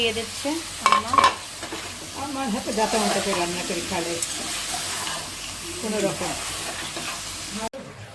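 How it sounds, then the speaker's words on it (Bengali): Vegetable curry with ground coriander and green chillies being sautéed in a home kitchen pan: continuous sizzling and scraping stirs close by, with people talking over it throughout. "ধনিয়ার গুঁড়া দেওয়া হয়েছে আর কাঁচামরিচ দেওয়া হয়েছে এখন তরকারিটা কষানো হচ্ছে"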